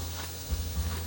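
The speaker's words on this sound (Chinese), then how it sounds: "快速翻炒" Napa cabbage stems are tossed quickly in a hot pan with sesame oil, giving a steady close sizzle. Two brief bumps of stirring rise over the frying hiss in a short burst.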